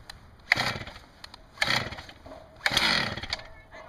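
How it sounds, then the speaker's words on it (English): A chainsaw engine runs in three rough bursts, coughing and popping between revs during carburetor adjustment, fairly near, no talking over it. "it kind of made a popping noise. So that was a pop."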